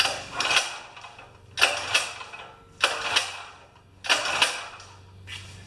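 A Champion portable generator is pull-started with the choke on, giving five rhythmic rattling, ratcheting recoil pulls, each a short mechanical burst, close by, with no engine catching.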